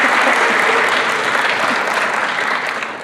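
Loud, dense applause from a lecture audience welcoming an invited faculty speaker, a continuous wash of many hands clapping that tapers slightly toward the end.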